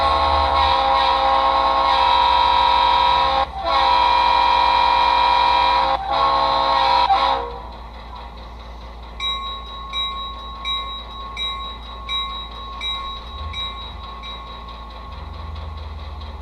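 An HO model locomotive's sound plays through iPhone 5C speakers: a loud, steady horn-like tone for about seven seconds with two brief gaps, then a quieter rhythmic chuffing with a faint high whine.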